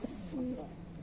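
Two adult pigeons being paired as a mating couple for winter, giving soft, low cooing in a short close phrase, with no talking over it.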